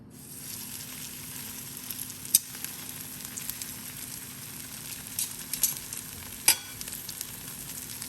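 Salmon fries in a pan with a soft, steady sizzle and crackle, dotted with a few sharp pops and spits throughout.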